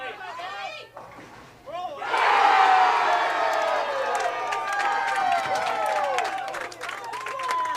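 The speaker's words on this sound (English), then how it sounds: "I think the crowd eruption speaks for itself." A bowling crowd at the finals of a collegiate tournament erupts after a strike, loud cheering, whoops and applause swelling up after a brief quieter moment and staying strong throughout, with a voice heard in the mix.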